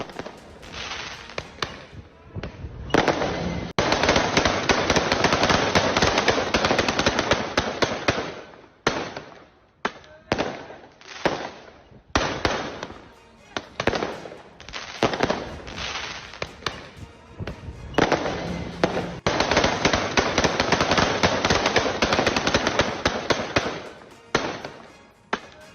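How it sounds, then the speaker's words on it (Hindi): Automatic gunfire rings out in a street during riots in France, long loud bursts of rapid shots broken by short pauses, sharp and echoing over about twenty-five seconds. "सरेआम बीच सड़क पर फायरिंग का ये वीडियो बताया जा रहा है, जिसमें ऑटोमेटिक गन से फायरिंग करते दिखे उपद्रवी।"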